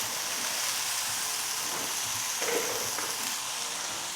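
Broccoli and onions frying in a hot stir-fry pan give a steady, moderately loud sizzle that runs throughout without a break, with a brief stir or clatter near the middle and no voices.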